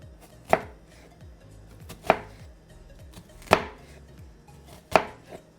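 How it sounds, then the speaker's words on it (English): An onion is chopped with a knife on a cutting board, four crisp separate thuds spaced about a second and a half apart, close and clear with no talk. "And then you can just chop it, just like that."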